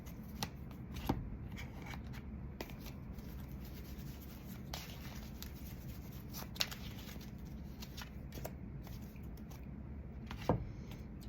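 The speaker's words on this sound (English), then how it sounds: "I'm going to pull some oracle cards here in connection to these tarot cards," Oracle cards are shuffled by hand in a quiet room, giving a soft, continuous papery rustle with occasional faint flicks and taps.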